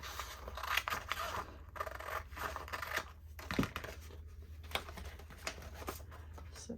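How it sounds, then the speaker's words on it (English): Scissors cutting along a glossy magazine page, a close, quiet series of crisp snips and papery rustles spread evenly throughout, without talk. "I'm going to cut this side off"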